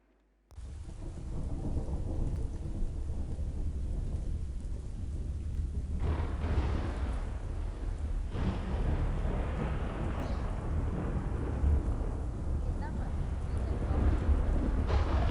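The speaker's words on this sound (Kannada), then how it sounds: "ಭಯಂಕರವಾದಂಥ ಆಲಿಕಲ್ಲಿನ ಮಳೆ" In a Christmas drama, a heavy hailstorm batters down steadily, with a dense roar of falling ice and rain under deep rumbling thunder and louder surges of crashing, all sustained and close.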